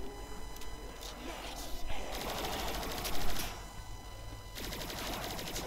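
A gun fires at zombies in the Roblox game Zombies Recoil, with fast rattling bursts of shots in two main runs and scattered single cracks before them, over a low game background.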